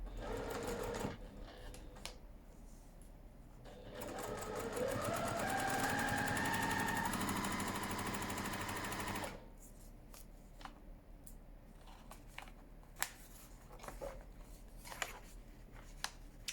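A sewing machine whirs steadily for several seconds, its motor pitch climbing, with quiet clicks and fabric handling before and after the run.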